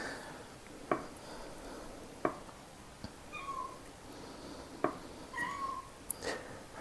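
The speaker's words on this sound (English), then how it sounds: "If you hear my cat in the background" A pet cat meows faintly in the background of a kitchen, with a few soft calls among sharp clinks and knocks from nearby baking work.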